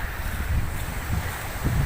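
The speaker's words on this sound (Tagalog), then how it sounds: "malakas ang alon at saka hangin" Strong wind buffets the microphone over the sea near a cemetery in the middle of the water, giving a steady, loud roar as strong waves wash in.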